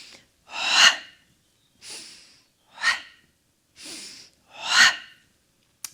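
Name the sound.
exhaling during a pilates ab curl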